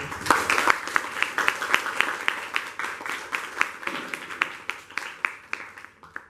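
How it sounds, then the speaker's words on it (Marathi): An audience at a college Marathi Language Day programme claps for performers, with steady, fairly loud applause and sharp individual claps that continue throughout. "एकदा परत जोरदार टाळ्या होऊन जाऊ देत कलाकारांसाठी"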